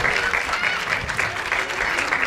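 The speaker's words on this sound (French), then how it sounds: "Tuki, sous l'applaudissement." Audience at a Polynesian Tahiti Nui stage show claps steadily to welcome a haka dancer, a dense, even burst of applause filling the short moment.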